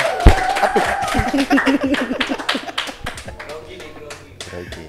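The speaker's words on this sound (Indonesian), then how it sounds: "boleh tepuk tangan?" Brief clapping greets a guest on a talk show set, with scattered hand claps and chuckles mixed into lively chatter.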